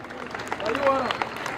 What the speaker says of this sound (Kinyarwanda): amashyi menshi cyane kuri bo.